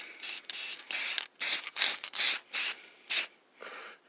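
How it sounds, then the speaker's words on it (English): Short bursts from a spray paint can lay down a light coat, about ten quick hissing sprays of varying length separated by brief pauses, close and clear. "just kind of spray a real light coat of paint on"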